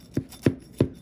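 A pie cutter breaks into the warm, buttery, crispy crust of a cherry pie from a pie maker, three short crunchy cuts spaced evenly and heard up close.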